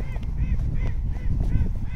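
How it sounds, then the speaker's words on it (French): Ducks quacking in the background at a lake, several short repeated calls over steady low wind rumble outdoors. "Et les canards en fond qui se foutent de notre gueule."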